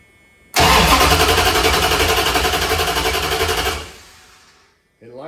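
A carbureted Mopar engine cranks over fast on its starter for about three seconds with no fuel catching, a steady loud rhythmic churning that then winds down and stops.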